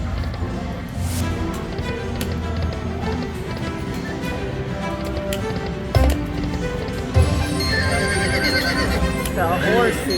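Horse neigh and hoofbeat sound effects from a Lightning Link Best Bet slot machine in a casino, a whinny and clip-clop heard among electronic chimes and jingles, with a person talking over them.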